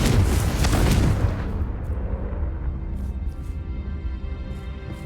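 Magical spell explosions from Confringo and Bombarda in the Hogwarts Legacy video game: a loud, dense blast that booms for about a second, then decays into a long rumbling tail, with no talking.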